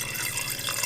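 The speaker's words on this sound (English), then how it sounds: "I refill my water." Running tap water pours steadily into a large stainless steel water bottle being refilled at the sink in the morning, a close, continuous rushing splash heard alone.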